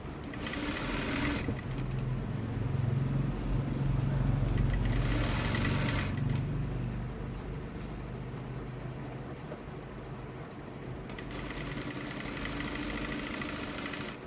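A sewing machine stitches a blouse, running in a continuous rapid mechanical whir with bursts of faster stitching, close and steady throughout.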